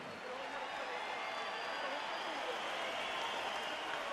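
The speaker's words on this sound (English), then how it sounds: "as special guest of Don King, a round of applause for the family members of those who gave their lives on 9/11." A boxing arena crowd applauds in a steady, dense wash of clapping and cheering that holds at an even level for the whole stretch.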